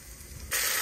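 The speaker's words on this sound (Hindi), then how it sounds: "अब ये देखिए मैंने इसमें चावल भी डाल दिया और मैं इसको अच्छे से थोड़ा देर भून लूँगी" Rice is dropped into a hot pan and roasted in a home kitchen while making kheer: after a quiet, low rumble, a sudden bright, steady hiss and sizzle takes over for the last half of the moment.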